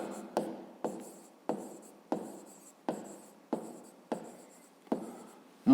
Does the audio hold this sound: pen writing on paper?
yes